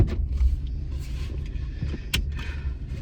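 A car engine rumbles low and steady nearby, with a few small clicks and knocks inside the cabin and a short sharp bump partway through.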